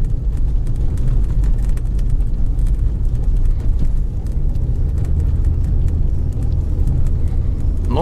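A 2020 Lada Granta with an automatic transmission drives over fresh snow, giving a loud, steady low rumble that continues without a break.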